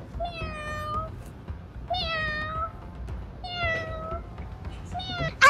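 A cat meows four times in drawn-out, rising-and-falling calls spaced about a second apart, fairly clear over a faint indoor background, in a sitcom scene.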